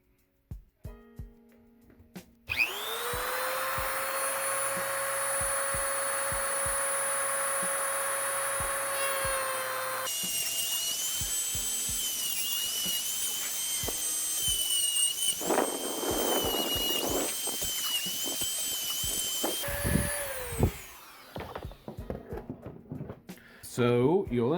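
A power tool cuts into a plastic X-Maxx RC transmitter that is still bolted together, giving a loud, steady high-pitched whine with shifting pitch and gritty grinding bursts, running almost the whole time with short pauses.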